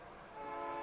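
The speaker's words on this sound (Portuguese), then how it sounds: "aqui o trem já está apitando" A train whistle sounds in the distance, a steady tonal blast that swells slightly louder toward the end of the brief moment, heard alone without talk.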